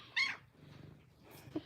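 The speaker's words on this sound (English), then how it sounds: "I cannot get over his little chirpy meows." An orange cat lets out a short, bright chirpy meow, then a second softer chirp about a second later, close and faint over low room noise.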